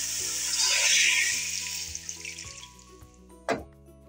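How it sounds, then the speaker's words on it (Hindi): Water is poured into a hot pot of mutton for karahi gosht, giving a loud, steady sizzle and bubbling hiss that fades out. A short clatter follows near the end. "तो अब इसमें हम शामिल कर देंगे पानी।"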